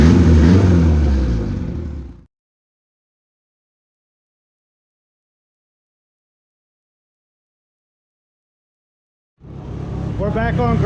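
A turbocharged EG Civic with a GSR engine runs on a dyno, loud and close at first, then cutting out into a long silence before the engine comes back up strongly near the end.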